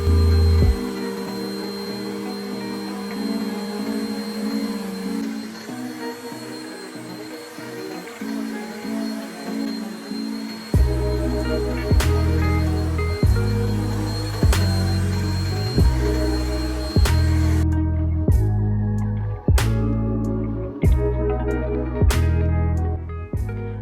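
A vacuum cleaner runs steadily while cleaning baking soda off a mattress, a constant loud motor drone with a pulsing, throbbing rhythm and occasional sharp clicks as the nozzle moves.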